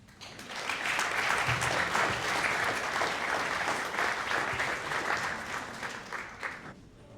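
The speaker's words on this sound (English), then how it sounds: "Give them a warm applause." A school audience at a student Dragons Den business event breaks into sustained, loud applause that swells quickly, holds steady for several seconds and then gradually thins out.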